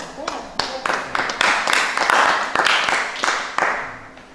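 Theatre audience applause after a presentation: fairly close, rhythmic bursts of clapping at roughly half-second intervals that continue throughout, with a voice talking over them.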